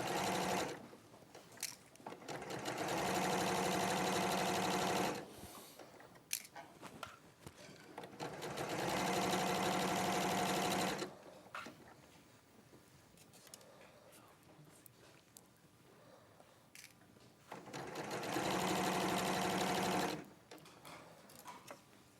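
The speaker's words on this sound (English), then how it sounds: "I'm just going to sew, and it's the same 1 centimetre seam allowance." A domestic sewing machine stitches a one-centimetre fabric seam in three sustained whirring runs with quiet gaps between them, where faint handling clicks and rustling can be heard.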